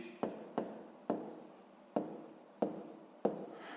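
Pen writing on paper while a sixth-grade math exercise is worked out, six short scratchy strokes at a steady, uneven pace, each a quick attack fading out, close and quiet with no talk.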